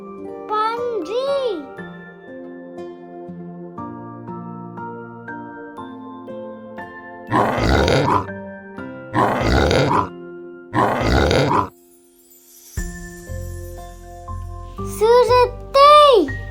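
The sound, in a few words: pig grunting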